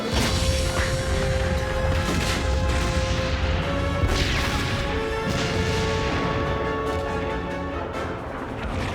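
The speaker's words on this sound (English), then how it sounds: "Main batteries open fire." Heavy main battery guns of a warship firing amid the crash and boom of battle, with heavy impacts and swooshing sweeps over a continuous loud rumble and a sustained tonal hum.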